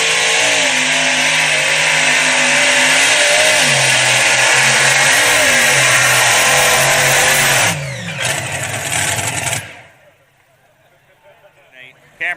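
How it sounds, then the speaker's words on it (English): A supercharged triple-engine big block Chevrolet pulling tractor roars at a farm show pull, loud and sustained with shifting engine tones, then surges and cuts off abruptly into near silence, while an announcer's voice runs over it. "Cameron Neves out of McAdoo, Texas, triple engine big block Chevrolet's Cotton Candy."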